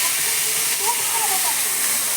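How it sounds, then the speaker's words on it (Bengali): Carrots, beans and capsicum fry in a wok with a steady, loud hissing sizzle that fills the whole moment, with faint voices murmuring beneath. "সবজিটা তাহলে ভেজে নাও ততক্ষণে। সবজিগুলো ভাজা হয়ে যাক।"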